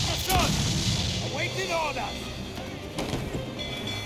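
Ship cannons boom repeatedly in a video game naval battle, the heavy blasts rolling through a dense, noisy din with voices shouting in the background.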